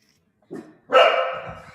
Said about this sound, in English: Oh, I hear your dog in the background.